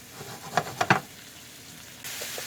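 Shrimp scampi sizzles in a pan, a few clattering stirs and crackles up close, then a broader steady hiss of frying rises near the end.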